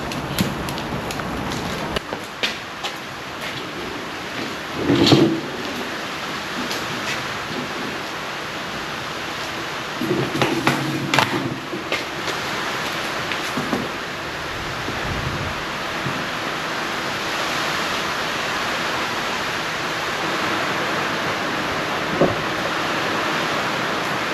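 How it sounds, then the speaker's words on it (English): Rain falls steadily outdoors in a backyard beside a charcoal Weber grill, a continuous broad hiss with occasional louder bumps and knocks nearby. "it started raining and it's really wet"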